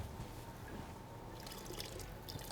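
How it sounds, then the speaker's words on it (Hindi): Water poured into kadhi curry cooking in a pot, a soft steady trickle and splash with faint bubbling, fairly quiet throughout. "पानी हम थोड़ा सा और ऐड करते हैं"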